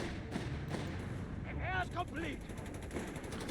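Artillery and gunfire in Company of Heroes 3 during a busy battle, rapid bursts and booming shots rattling continuously while a voice talks over the combat.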